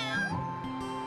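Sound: kittens meowing in a cartoon

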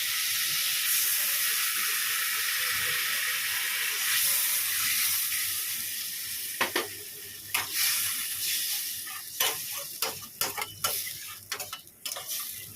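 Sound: water added to hot oil in curry, sizzling

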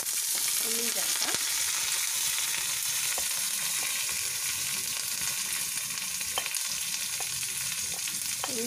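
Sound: green chilies and onion frying in pan

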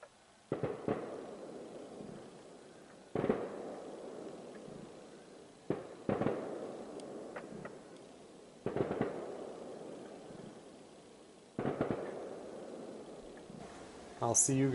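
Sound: fireworks show over a lake

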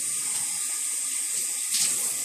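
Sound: splashing water from bathtub tap onto face

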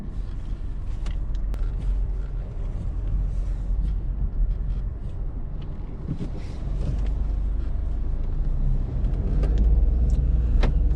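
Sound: three-cylinder car engine running

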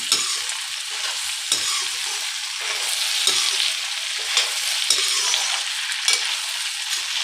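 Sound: chopped tomatoes stirred and frying with okra and onion

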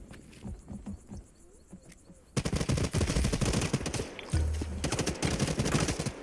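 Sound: gunfire in the video game Hawked

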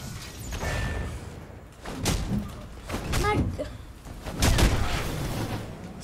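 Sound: laser shots fired at the player in Marvel's Avengers video game

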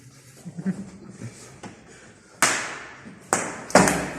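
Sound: slipper hitting a table

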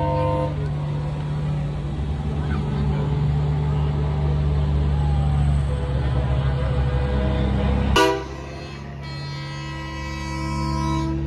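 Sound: truck air horn

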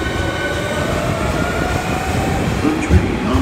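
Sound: subway train arriving at platform

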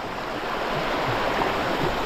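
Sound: river water flowing

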